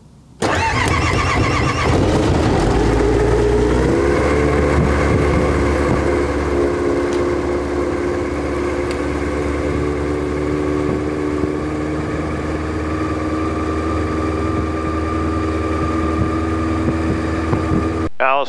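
A Yamaha APE engine in a Kitfox aircraft, freshly fitted with a SkyTrax gearbox and clutch, cranks and catches, then settles into a steady, loud low-RPM warm-up idle that drones on without a break.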